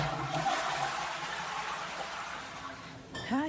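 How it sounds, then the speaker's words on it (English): A household toilet flushes in one loud rushing surge of water that tapers off, followed by the tank refilling with a rising hiss near the end. "I need to flush."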